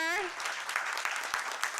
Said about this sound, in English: And one more applause, please, for everybody here.